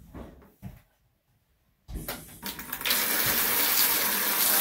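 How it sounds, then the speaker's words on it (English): After a couple of handling knocks and a brief silence, water bursts from a disconnected cold-water supply line of an LG washer into a bucket, rising to a strong, steady rushing flow that continues to the end. "I've got the cold water line disconnected. I'm going to turn it back on and see if I do have good water pressure"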